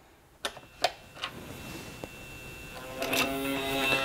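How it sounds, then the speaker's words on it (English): An automotive EGR valve actuator clicks as power is applied, giving a few sharp separate ticks followed by a short mechanical whir and buzz as the valve retracts, close and fairly quiet. "when we apply power, the EGR valve retracts"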